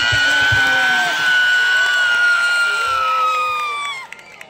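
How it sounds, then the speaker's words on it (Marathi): A large crowd at an outdoor wrestling match roars and cheers continuously, with loud shouts and whoops rising over the din before it drops away near the end. "आणि टाळ्या करा की टाळ्या टाळ्या टाळ्या।"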